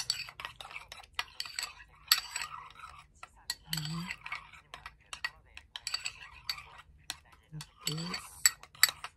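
Grated cheese being mixed with mayonnaise in a bowl with a utensil, heard as repeated close scraping and clinking strokes against the bowl in an uneven rhythm, with brief voice sounds between.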